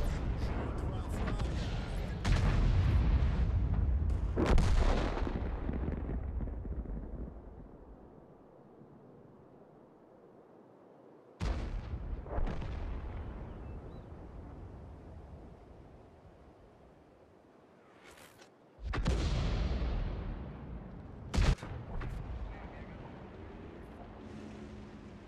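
Cannon fire in a video game: several loud, deep booms, each followed by a long, fading rumble, with quiet stretches between them and talking voices at times.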